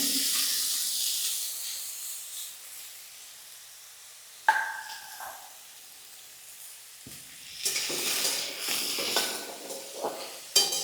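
Oil sizzles and hisses steadily in a pan as sweet potatoes fry, quieting for a stretch before flaring up again with bursts of crackling and a few clanks of a utensil.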